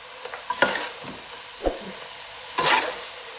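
Carrot halwa with khoya being stirred and roasted in a pan, with a few scraping spoon strokes and a soft sizzle, two louder stirs standing out, no talking.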